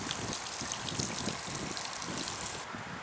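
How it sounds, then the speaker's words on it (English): Water splashing steadily in a small garden fountain near the Mississippi River, a continuous close gush and patter that drops slightly in level near the end. "Quite a little fountain over here."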